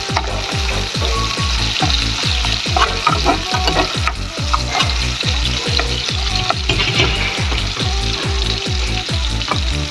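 Onions sauté in a pan until golden brown for ampalaya adobo, hissing steadily in hot oil with rhythmic spatula scrapes across the whole span and no talk.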